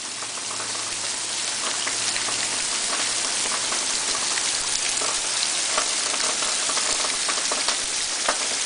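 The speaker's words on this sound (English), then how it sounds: "Just a nice light little rain there, you know, just light rain." Light rain falls steadily in Winnipeg, a continuous even hiss of drops pattering on surfaces nearby with a few sharper ticks, with no talking.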